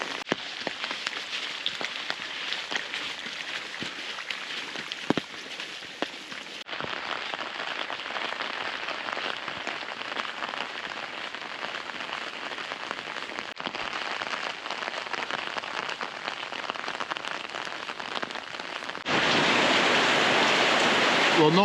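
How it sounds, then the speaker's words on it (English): Heavy rain pouring down outdoors during a Via Francigena walk, a dense constant hiss of drops on surfaces that grows louder and closer near the end. "it is the heaviest rain of the day."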